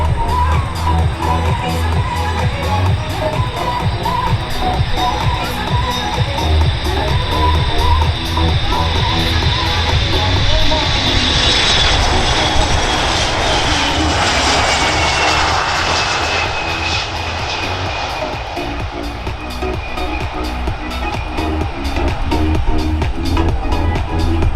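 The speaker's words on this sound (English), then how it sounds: "The landing attitude demonstration by the KC-135." A KC-135 tanker flying a slow, steep landing attitude demonstration at an airshow in London, its loud engine roar swelling and passing overhead, then fading, with faint crowd noise beneath.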